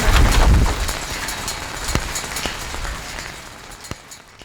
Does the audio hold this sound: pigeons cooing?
no